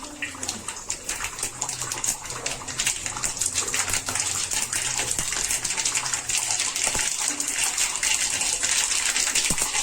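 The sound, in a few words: mustard seeds spluttering in hot oil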